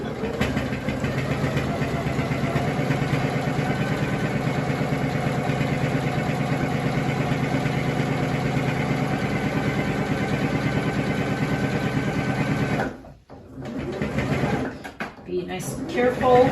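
A sewing machine stitches a fabric face mask with a steady mechanical whirr for about twelve seconds, then stops and restarts in short bursts, while someone talks over it.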